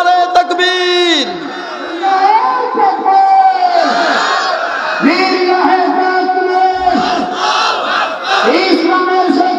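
A large crowd at an outdoor religious sermon gathering roars back in unison after a takbir call, with several long, loud chanted shouts rising and falling in waves, close and powerful, mixed with individual voices.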